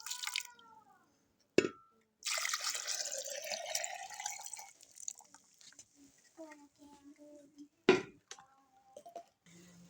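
Fresh plum (aloo bukhara) juice is poured back into a container, a short run of splashing liquid with drips, set between a couple of thumps and a voice speaking briefly.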